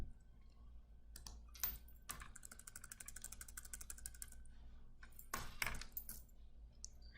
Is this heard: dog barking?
no